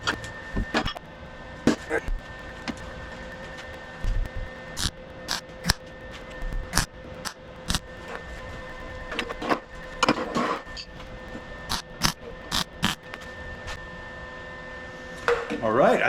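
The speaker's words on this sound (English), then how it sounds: "I think I got the welder dialed in for this thickness" Tack welding on lawn tractor sheet metal, a burst of short crackling welder zaps at irregular intervals, each lasting a fraction of a second, with quiet pauses between them.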